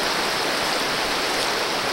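Big South Fork river rushing steadily nearby, a loud continuous broadband wash of flowing water with no voices.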